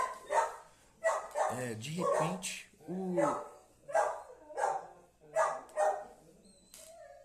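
Dogs bark repeatedly in sharp, close bursts with a steady rhythm of several yips and barks, while someone speaks over them.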